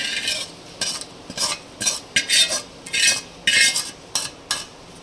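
A spoon stirs and scrapes through drumstick pickle mixed with cooled oil in a metal vessel, about ten short, wet, gritty strokes in an uneven rhythm, close and clear with no talking.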